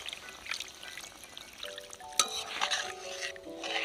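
Water poured into a simmering tuna kalia curry in a pan and then stirred, a quiet trickling splash with light clinks and scraping, close but faint, with no talk.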